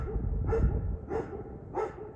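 A dog barks three times at an even pace, each bark short and moderately close, over a quiet outdoor background with no one talking.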